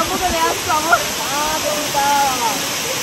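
Waterfall at Salto Mbocay in Misiones pours as a steady, broad rushing roar, while people talk over it throughout.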